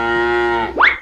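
Buffalo lowing, a single long loud moo held steady before sliding up into a brief rising bellow, then cutting off, heard close and clear with no talk.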